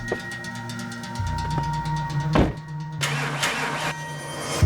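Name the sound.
car engine starting, checking a faulty starter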